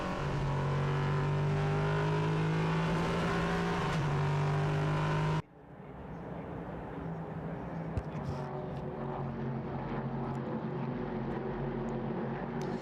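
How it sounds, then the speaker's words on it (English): Prototype race cars roar around the Hockenheimring during a Prototype Cup Germany race, a loud sustained engine drone that cuts off abruptly and gives way to a more distant, fluctuating roar of cars circulating the track. "listen to the roar of those mighty engines as they circulate around this circuit"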